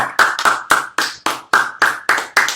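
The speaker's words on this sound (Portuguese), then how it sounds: "Palmas pra galera." During a live online photo-editing broadcast, about nine sharp hand claps ring out in an even, steady rhythm, close and crisp, each with a short reverberant tail and no talking.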